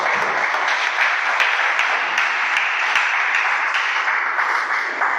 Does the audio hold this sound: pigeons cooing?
no